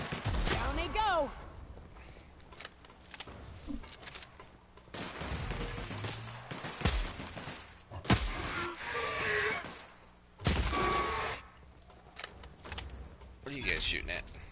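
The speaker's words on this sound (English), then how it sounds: "What are you guys shooting at?" Rapid bursts of gunfire from The Outer Worlds, sharp clustered volleys of shots separated by short gaps, loud and close across the whole stretch, mixed with other game effects.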